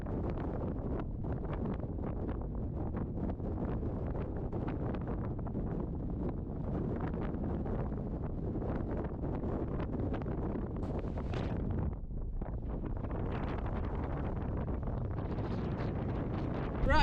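Strong wind buffets the microphone on a fell summit in the North Ennerdale fells, with a person sheltering behind a wind shelter; a continuous loud roar that gusts and briefly drops before surging again.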